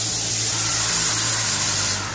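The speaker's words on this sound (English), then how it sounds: "I don't want to overspray the wall with my pattern of shooting that window." A paint sprayer shoots a steady, loud hiss of spray while coating a window indoors, with a low motor hum underneath throughout.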